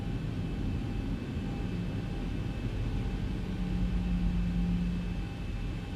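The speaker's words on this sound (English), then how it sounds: "let's release the parking brake and start to give us some throttle" Airliner engines in the X-Plane flight simulator hold a steady, even low drone with a faint whine, starting the taxi out of Munich.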